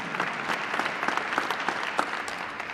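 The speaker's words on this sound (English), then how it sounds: "Can I have applause for that?" Steady applause at a press conference, many hands clapping in a dense, even patter with a few sharper claps standing out.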